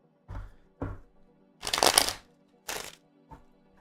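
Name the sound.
shuffling tarot cards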